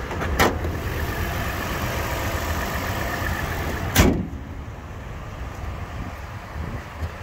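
A 2019 Toyota 4Runner with a V6 sits idling in a steady low rumble, broken by a sharp door thud early on and another loud thump around four seconds, after which the idle continues more quietly with no talk.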